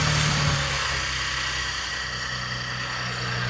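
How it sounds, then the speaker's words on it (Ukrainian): The V6 engine of a 2017 Chevrolet Traverse idles steadily nearby, a smooth, even hum with no knocks or irregular noises. "Двигун працює рівно, немає посторонніх звуків"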